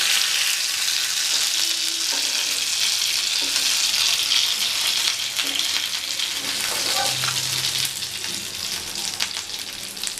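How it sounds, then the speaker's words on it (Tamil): Ayala fish frying in hot oil, a continuous close crackling sizzle with occasional clinks and stirring sounds, no talk. "இதே மாதிரி எல்லாத்தையும் பொரிச்சு எடுத்துக்கலாம்"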